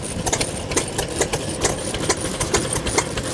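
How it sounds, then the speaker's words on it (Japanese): A Kubota E-type 5 horsepower kerosene stationary engine runs at an outdoor engine meet in Joso, Ibaraki, with a steady, rapid chugging beat over constant mechanical clatter, close and fairly loud. "久保田発動機の E 型5馬力です。"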